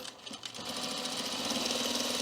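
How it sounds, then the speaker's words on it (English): An industrial sewing machine stitching fabric hums with a steady, fast mechanical chatter that ramps up after a brief start, loud and close with no talking. "Now I'm using an industrial sewing machine."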